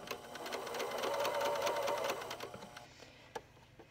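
A sewing machine stitches a fabric tube for a headband and sleep mask, running steadily and close for about three seconds before slowing and stopping, followed by a single click.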